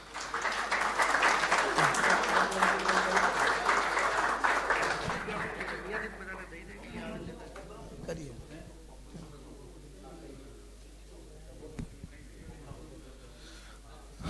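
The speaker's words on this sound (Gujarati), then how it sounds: "તો હવે અંતમાં છેલ્લી વાર આપણે આપણા માટે જ તાળીઓ પાડી લઈએ." A hall audience at the Patidar Yuvak Mandal Mumbai event Prerana-2018 bursts into loud applause that lasts several seconds and then fades, followed by quieter murmuring and talk.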